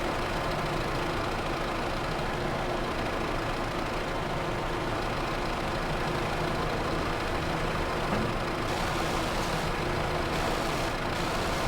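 A heavy vehicle engine idles with a steady, low, even rumble for the whole stretch. The sound stays close and constant with no revving, and no one speaks.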